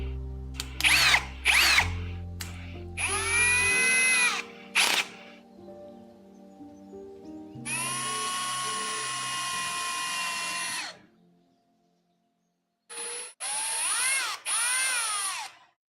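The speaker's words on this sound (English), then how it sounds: "I don't want to drill any deeper." Power drill boring holes in a 3D printer part, several separate bursts of whining high-pitched drilling with short pauses between them, close and loud, no talking.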